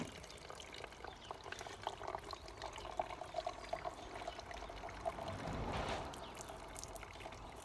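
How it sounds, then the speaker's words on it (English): Water poured by hand onto a small peat bog model in a bottle to simulate rain, giving a steady close trickle and splash that swells briefly near the end. "Very sophisticated rain this."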